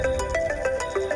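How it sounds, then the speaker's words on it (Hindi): A mobile phone ringtone announces an incoming call, a short melodic run of electronic tones heard clearly on its own. "पापा का फोन इस टाइम पे?"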